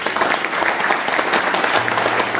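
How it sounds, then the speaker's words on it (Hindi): An audience at a company event breaks into steady, dense hand clapping, a continuous burst of applause from many people with no talk over it. "एक ताली बजा सकते हैं?"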